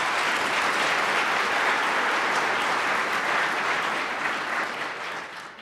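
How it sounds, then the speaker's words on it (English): A large audience at the Hennepin County State of the County gathering applauds after a musical performance of Lift Every Voice and Sing, dense sustained clapping that holds steady, then tapers slightly at the end. "Let's give another round of applause for that incredible performance."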